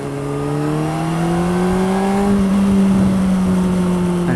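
A car engine fitted with a new Akrapovic exhaust revs steadily, its tone climbing and holding, loud and close, with a deep, resonant drone and no talking.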